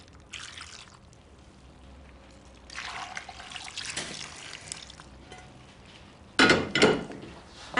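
Aromatic broth splashes and trickles over cooked mussels in a few separate pours, soft at first, then a louder, sudden gush near the end.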